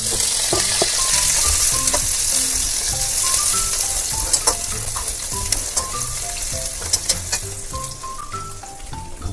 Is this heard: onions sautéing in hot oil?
yes